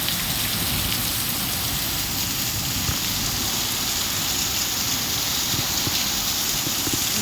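Heavy rain pours steadily at night, a dense, even roar of drops hitting surfaces that stays constant throughout, with no voices.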